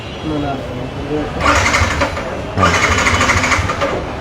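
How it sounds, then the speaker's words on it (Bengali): A lightly used Yamaha R15 V4 motorcycle's starter cranks in two rapid mechanical bursts, the second longer, loud and close, with people talking nearby. "আমি বাইকটা একটু আপনাদেরকে সাউন্ডটা শুনিয়ে দেখানোর চেষ্টা করব একটু স্টার্ট দিবেন"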